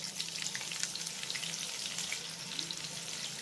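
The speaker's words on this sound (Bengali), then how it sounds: "তখনই আমি এর ভিতরে অ্যাড করব মিডিয়াম সাইজের দুটো পেঁয়াজ কুচি" Chopped onions hit hot oil with whole cumin, giving a soft, even sizzle of frying that holds steady throughout, quiet and close with no talking.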